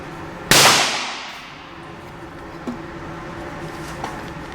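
A Glock 26 Gen 4 pistol fires once, quickly, from 5 yards at a shooting range. The sharp, loud crack rings out and its echo trails off, followed by faint small clicks.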